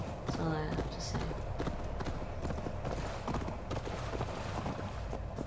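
Horse hooves clip-clopping in a PlayStation 5 video game, a steady fast trot of repeated sharp hoof strikes, close and even, with a voice talking over it.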